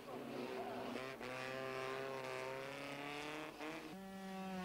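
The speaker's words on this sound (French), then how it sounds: "À 3 de front à la chicane, Bachelard garde le commandement, mais cette fois c'est Tilkarts qui effectue un freinage tardif" Procar race cars at Zolder in 1989 screaming through a chicane on a wet track, steady high engine notes that shift pitch on braking and acceleration, heard under a French commentator's voice.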